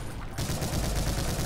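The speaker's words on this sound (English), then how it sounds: "Luckily I got a chain gun." Rapid, dense chain gun fire from the Brutal Doom video game, a loud continuous burst of rattling shots with no talking.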